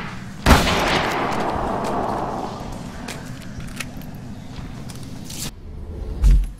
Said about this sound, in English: I am burning through rifle ammunition right now